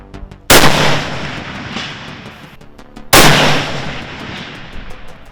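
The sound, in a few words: long range sniper rifle shots hitting steel target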